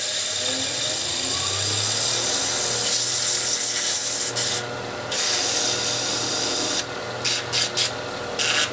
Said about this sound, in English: So I'll just give it a quick sand with 400 again.